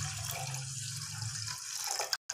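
Water from a glass is poured into a cooking pot of soaked rice for Peshawari kheer, a steady close trickling and splashing that stops abruptly near the end.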